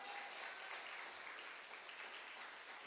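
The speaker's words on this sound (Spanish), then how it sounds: "Dale ese aplauso fuerte al Señor si se lo vas a dar." Church congregation applauding during a sermon, a soft, even wash of many hands clapping, distant and faint, steady without breaks.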